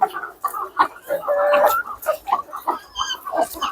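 Hens clucking in a village poultry shed, close and busy, with repeated clucks and squawks overlapping someone talking throughout.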